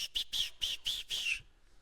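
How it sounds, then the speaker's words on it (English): A Mexican death whistle blown in six short, shrill screeching bursts in quick succession, loud and close, with the last blast trailing off into quiet. "that's my Mexican death whistle"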